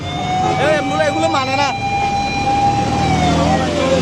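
An ambulance siren wails from behind in a traffic jam on the Shah Amanat bridge, its rising and falling tone loud and close for about a second before it cuts off. Someone talks over steady road noise.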